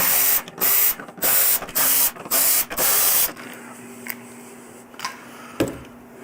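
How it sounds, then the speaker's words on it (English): Torx 27 screws come out of a motorcycle lower fairing under a power driver, heard as six close, loud whirring bursts in a quick sequence followed by quieter handling clicks. "grab your Torx 27, come up here, you got 3 screws right here inside these holes, 3 on each side. We're going to remove those."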